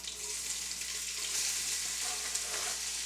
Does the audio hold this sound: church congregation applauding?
no